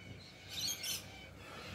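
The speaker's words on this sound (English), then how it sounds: "Hear the birds?" Birds chirping in a backyard garden, a brief cluster of high, bright calls rising over faint outdoor ambience and then fading, with no voices.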